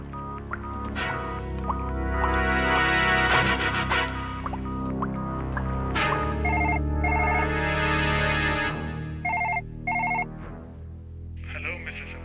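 A telephone rings out in repeated electronic bursts while a call is being placed, each ring clear and steady, with short pauses between them and a faint click near the end.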